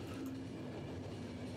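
A scheduled train in the video game The Final Station rolls along with a low, steady rumble and faint rhythmic rail clatter, quiet and continuous, with no talking.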